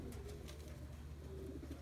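Tippler pigeons in a fly loft cooing, with low soft coos layered over a steady bed of rustling, wingbeats and close ambient noise, continuous and fairly quiet throughout.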